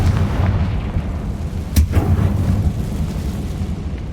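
A Confringo fire spell explodes in Hogwarts Legacy with one sharp, loud blast over a steady rumbling game background, without speech.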